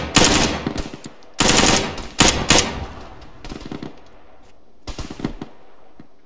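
Video game machine gun fire crackles in several loud rapid bursts with short pauses between, the final bursts coming lighter and more scattered, with no talk.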